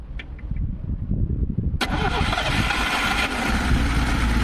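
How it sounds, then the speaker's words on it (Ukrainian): A car engine, powered by a Promate PatrolPack-2 12000 mAh 2000A jump starter, cranks briefly and then catches, settling into a steady, rumbling idle that continues to the end. "Так, все, можна заводити автомобіль."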